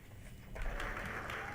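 Applause breaks out as Barack Obama enters the White House alongside Joe Biden, a dense clapping crowd swelling suddenly and holding steady, heard at a moderate distance.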